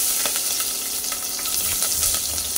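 Green chilies, mustard seeds, cumin and curry leaves sputter in hot oil in a pressure cooker pot, making a dense, loud, continuous sizzle with fast crackling pops, heard close and without any voice.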